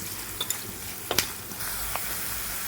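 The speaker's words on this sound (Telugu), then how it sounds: "వేసుకొని ఉల్లిపాయలు దోరగా వేగేంత వరకు వేసుకోవాలి" Sliced onions sizzling in a pan while being browned for a potato fry, giving a short, even hiss with a few light clicks and crackles. No one speaks.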